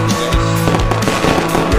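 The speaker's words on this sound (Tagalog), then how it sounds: "The fireworks light up the night." Loud New Year fireworks burst in a rapid, dense barrage of cracks and booms, several overlapping explosions close by throughout.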